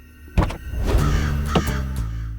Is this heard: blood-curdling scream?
no